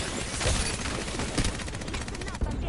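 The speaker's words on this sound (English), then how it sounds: "Listen up, I'm getting shot at." Dense enemy gunfire in a squad-based shooter video game, a steady loud rattle of rapid shots with sharp bursts near the middle, mixed with game voice lines.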